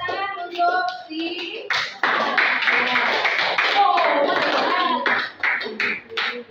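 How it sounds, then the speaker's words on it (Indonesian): Students in a classroom clap their hands together in a rhythmic burst after brief talk, the clapping dense and close, mixed with children's voices and speech overlapping. "tepuk tangan untuk si"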